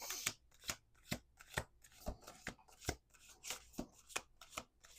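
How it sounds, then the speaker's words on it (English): Crisp, rhythmic riffling of a deck of cards, about a dozen quick bursts in a steady pattern, close and fairly quiet with no talking. "we're doing another shuffle"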